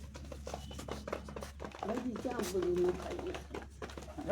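Soft pigeon coos sound a few times under a person talking nearby, with some background shuffling.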